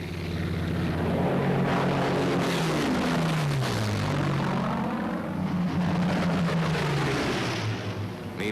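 Propeller-driven WWII P-51 Mustang fighters escorting bombers drone steadily overhead, a loud continuous engine roar with pitch sweeping down and back up as the aircraft pass and weave.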